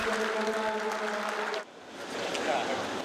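Soldiers and press applaud at the Indonesian Army Chief of Staff Cup yongmudo martial arts tournament in a gymnasium. A voice is heard over the first half, then the noise drops briefly before a softer wash of clapping resumes.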